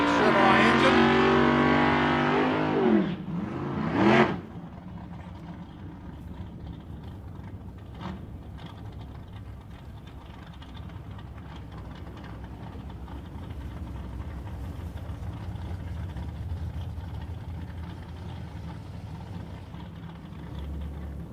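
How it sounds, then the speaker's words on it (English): A yellow Chevrolet Vega drag car with a 406 cubic inch Chevrolet engine revs loudly for a few seconds at a nostalgia drag racing pit, then drops to a low rumble under crowd and pit noise. "He's running a 406 cubic inch Chevrolet engine."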